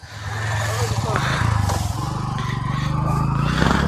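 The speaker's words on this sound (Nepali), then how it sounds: "ल बाइक निकालियो साथीहरू" A motorcycle engine idles and revs close by as the bike is taken out on Nepal's BP Highway, with clattering and scraping around it and people talking over the steady engine drone.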